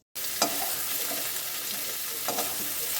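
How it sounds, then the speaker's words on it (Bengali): Radish, beans and onion stalks fry together in a pan with a steady, close sizzle. Two distinct stirring scrapes cut through it, one early and one near the end. "দিয়ে একসাথে 3টে সবজি ভেজে নেব"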